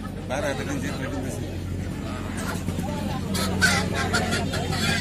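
Native chickens and ducks at a busy village poultry market honk and cluck amid steady crowd chatter, with a continuous low hum underneath and people talking nearby.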